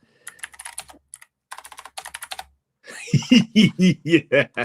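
Rapid clicking bursts of typing on a computer keyboard come in several short runs, followed by close, loud laughter.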